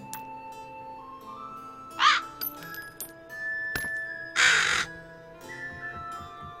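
Crows in the Nancy Drew game Haunting of Castle Malloy, set in Ireland, give two loud harsh caws a couple of seconds apart over a quiet background of soft chimes and tones.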